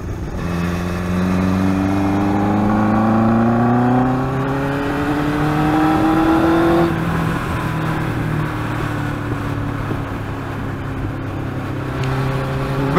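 A motorbike engine revs and climbs through the gears in traffic, loud and close, with a steady rising whine that drops and settles into a lower drone.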